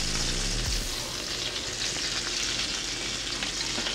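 Rosemary and garlic hit hot butter in a pan with a loud, bright sizzle. A brief thud opens the sound, and then a steady crackling hiss carries through without speech.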